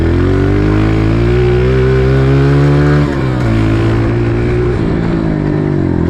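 A Honda CRF125f dirt bike engine is held at high revs, loud and close, climbing slowly toward its limit and then dropping back with a dip before revving again.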